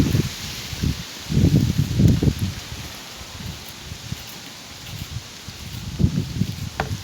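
Wind gusting through garden foliage, leaves rustling in soft bursts that swell and fade, with a steady breezy hiss throughout.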